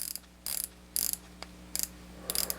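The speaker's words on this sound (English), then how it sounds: "Let's check this bezel out." Bezel of a 5.11 field watch being turned in short ratcheting bursts, about six quick clicking runs spaced across a couple of seconds, close and crisp against a quiet background.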